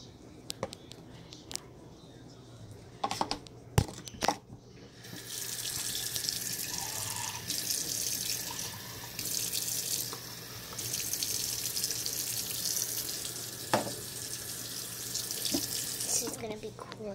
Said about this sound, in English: I'll put water in it.